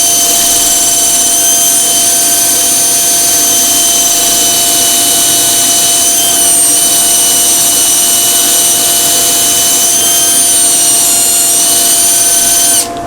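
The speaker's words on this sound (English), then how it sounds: "I'm just bracing the drill against my body" A handheld power drill braced against the body drives a sanding attachment on a wooden kintsugi bowl, giving a loud, steady high-pitched whir that holds without a break for the whole stretch.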